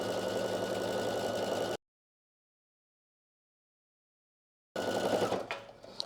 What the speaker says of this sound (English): Go ahead and sew all the way around now.